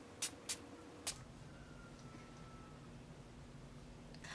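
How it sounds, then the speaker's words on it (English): Three quick hissing spritzes of an e.l.f. Mist and Set setting spray misted onto a face, close and brief, followed by quiet room tone. "I'm going to set my face with some spray"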